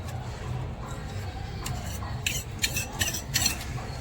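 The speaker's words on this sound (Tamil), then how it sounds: "இப்போ நம்ம வந்து ஆனியன்ஸ் ஆட் பண்ணிக்கலாம்." Onions are sautéed in hot oil in a miniature cooking pan: faint, irregular scraping and clinking taps of a small utensil against the pan, growing a little busier toward the end, with no talking.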